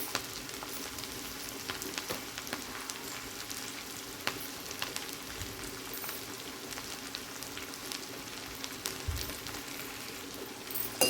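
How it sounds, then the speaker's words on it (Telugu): Onions, a dried red chili and curry leaves fry in hot oil for fish curry, a dense, even sizzle with fine crackles and a few stirring scrapes, close and steady, with no talk. "ఇప్పుడు చూస్తున్నావు కదా ఆనియన్స్ వేసేసాను తర్వాత అందులోనే ఒక ఎండుమిర్చి కరివేపాకు అయితే వేసేసుకున్నాను ఇప్పుడు వీటిని బాగా వేగనివ్వాలి"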